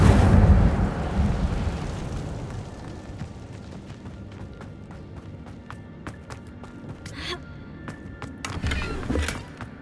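An Incendio fire spell cast in Hogwarts Legacy: a heavy whooshing burst of flame swells up at the start, then fades into a crackling tail with scattered sharp clicks and snaps, a second smaller flare rising near the end.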